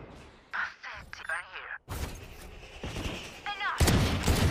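Valorant gunfire crackles in short bursts and single shots amid game sounds, with excited voices talking over the action throughout.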